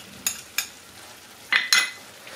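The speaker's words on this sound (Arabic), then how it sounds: "غادي نحرك هكايا حتى كتدخل هاد العطريه مع هاد المطيشه" Spices, garlic, coriander and parsley being stirred in a tajine for a Marrakech-style eggplant and chickpea dish, giving a few scattered scrapes and clinks with one louder pair near the end over a faint sizzle.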